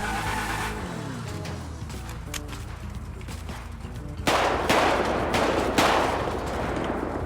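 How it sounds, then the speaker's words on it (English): Gunfire between two shooters, heard as a string of sharp cracks, some distant and some closer and louder, with a dense burst in the second half over steady vehicle rumble and no talk. "The shots fired. We got two individuals shooting at each other."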